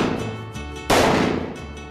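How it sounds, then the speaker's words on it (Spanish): Gunshots at a Mexican police firing practice: a sharp loud blast just before the one-second mark, following a series of quieter rapid reports, with decaying echo afterward. "Siga disparando."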